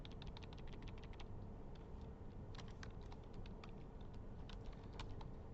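Fingers type on a computer keyboard in quick irregular bursts of sharp clicks, close and fairly quiet, over a constant low room hum with no voices.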